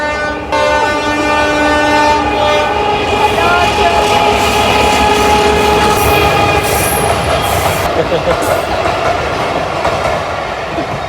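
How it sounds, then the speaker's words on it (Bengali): A train runs close by on a busy local line, its horn blaring in long tones at the start before giving way to loud rumbling wheels and clattering cars. "আসছে ট্রেন ও ট্রেন আসছে ট্রেন দেখবো আমরা এখন সবাই"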